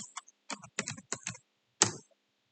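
A short run of keystrokes on a computer keyboard as a command is entered, several quick taps in small groups followed by one firmer press, close and isolated against silence.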